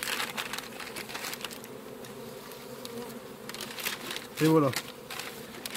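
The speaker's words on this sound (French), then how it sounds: "les butineuses elles tournent, elles savent pas où aller, mais ça elles vont vite trouver" Forager honeybees from a swarm buzz and circle around a small nucleus hive box, a steady droning hum close by with brief spoken words and a short louder burst of handling noise near the end.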